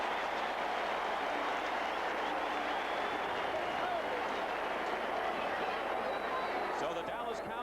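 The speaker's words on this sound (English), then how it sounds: "And listen to the crowd." A 1982 Cardinals football stadium crowd roars and cheers in a dense, continuous wash of noise as the first half ends against the Dallas Cowboys, with no clear break throughout.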